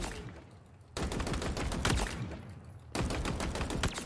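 Rapid automatic gunfire from a gun in the shooter game Halo Infinite, two dense bursts of loud close shots separated by a brief lull, no voices.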